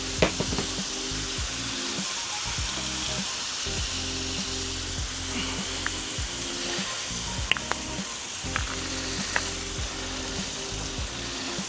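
Apples sizzle and fry steadily on a hot Weber Genesis gas grill, a dense continuous crackle with occasional sharper pops and scraping stirs, close and loud with no talking.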